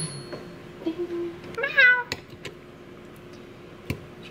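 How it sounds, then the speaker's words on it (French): A short, high kitten meow rises and falls once, fairly faint, amid quiet kitchen clatter and a few sharp knocks while cookies are being made. "J'entends le chaton."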